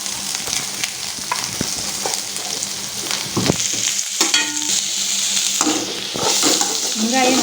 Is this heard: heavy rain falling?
no